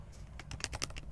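Typing on a computer keyboard while coding, a fast run of close, distinct key taps over a low background hum, with no speech.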